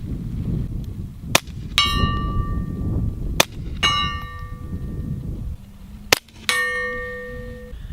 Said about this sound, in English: You're gonna be seeing us shoot this handgun with this rail and this holographic sight.